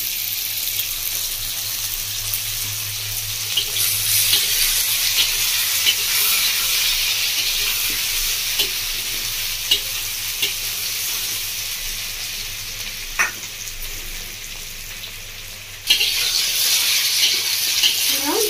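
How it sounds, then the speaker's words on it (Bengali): Potatoes sauté in a pan for a Bengali village-style fish curry, a constant close sizzle with scattered scraping and clinks, a brief sharper burst near the end, and no talk. "আলুগুলোটা ভালোভাবে কষিয়ে নিয়েছি"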